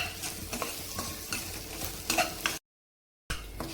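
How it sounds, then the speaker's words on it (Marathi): Spices, tamarind and jaggery sautéed in a hot tempering with turmeric for a spicy katachi amti, a steady sizzle with scraping stirs that cuts out briefly, then resumes. "ह्या फोडणीतच आपण जे थोडीशी चिंच आणि गुळ घेतलं होतं ते पण ह्यातच फोडणीतच घालायचं"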